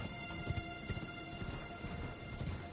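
A horse gallops in the video game Elden Ring, its hoofbeats a steady, fairly close clip-clop rhythm over faint ambient game sound, with no talk.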